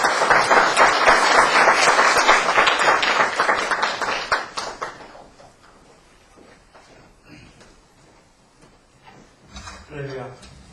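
A church congregation claps to welcome a speaker, a loud dense round of applause that fades out after a few seconds, followed by quieter room sounds and a voice speaking near the end.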